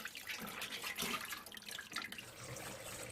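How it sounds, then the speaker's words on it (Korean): Blanched butterbur greens rinsed under running water in a sink, a soft continuous splashing and trickling with sloshing bursts, close and quiet, no talking. "헹궈서 열기를 좀 빼줘야 될 것 같아요"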